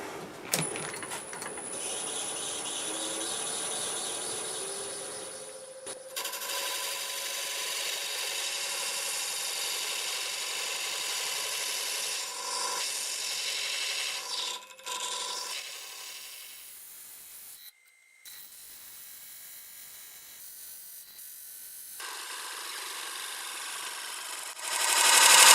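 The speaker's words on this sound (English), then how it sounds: "And we're ready to cut. And I'll use this thin parting tool that I have." A 2mm Robert Sorby thin parting tool cuts into a spinning burl board on a wood lathe, giving a long, steady scraping rasp with a few tonal whines and brief dropouts. The cutting grows louder near the end.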